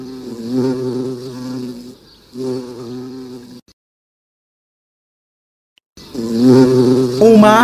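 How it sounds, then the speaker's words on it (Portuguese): Bee buzzing in a children's animal sound quiz, a loud close drone with a steady pitch that stops briefly, falls silent for a couple of seconds, then returns strongly. "Uma abelha."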